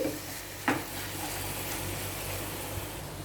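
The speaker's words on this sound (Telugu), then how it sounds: "ఇప్పుడు ఈ బంగాళాదుంపలను కూడా ఈ మసాలాతో పాటు ఇలా కలుపుకొని ఒక రెండు నిమిషాలు ఫ్రై చేసుకోవాలి" Diced potatoes with masala fry in a pan for an aloo masala kurma, giving a steady close sizzle throughout, with a sharp stirring scrape near the start.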